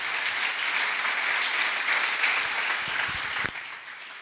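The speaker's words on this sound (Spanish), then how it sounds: "Le damos la bienvenida, un aplauso" An audience applauds steadily in a hall to welcome Father Beto, a priest speaking on migration at an evening course; the dense clapping holds throughout and thins out near the end.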